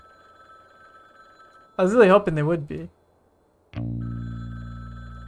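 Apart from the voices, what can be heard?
telephone ringing, from video game Frog Detective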